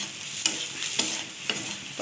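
A spice masala with jaggery, salt and turmeric is stir-fried in a pan for a prawn and egg curry: steady close sizzling with a spatula scraping the pan about every half second.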